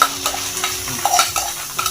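Fish egg masala spatters and sizzles in a hot pan, a steady close crackle with small pops and a faint stirring scrape.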